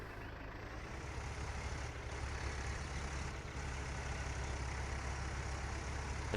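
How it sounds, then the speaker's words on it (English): Tractor engine idling in the Farming Simulator 2013 video game, a steady low rumble with a constant mechanical drone and no voices. "we could probably use this tractor to pull that tipper."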